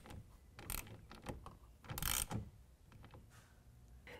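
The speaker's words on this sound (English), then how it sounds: "We're going to use a 1/4 inch Allen wrench and tighten that down." A 1/4 inch Allen wrench tightens a rail clamp on a Gator Recoil retractable tonneau cover, giving a series of close, dry ratcheting clicks and metallic scrapes in short irregular bursts, with no talk.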